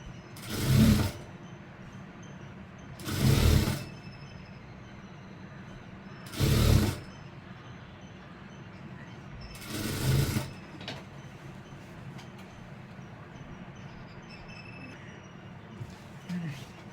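A sewing machine stitches uniform pants with a one-inch elastic waistband, running in four short bursts about three seconds apart, each a loud whirring rush separated by quiet pauses.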